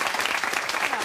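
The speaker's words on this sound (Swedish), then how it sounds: "Även du applåderar." Studio audience applause fills a Swedish SVT television debate set: a dense, steady wash of many hands clapping, loud and close, holding evenly throughout with no voices on top.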